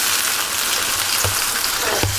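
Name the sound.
chili onion paste frying for fried kuey teow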